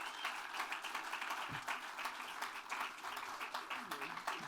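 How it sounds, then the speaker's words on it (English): Outdoor crowd at a groundbreaking ceremony claps in a modest, fairly quiet round of applause with scattered individual claps and faint voices underneath. "give Jaden a round of applause, y'all"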